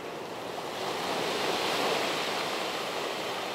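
Ocean waves at a sunset beach in Hawaii make a steady, continuous wash of surf, moderately loud and unbroken, with no voices.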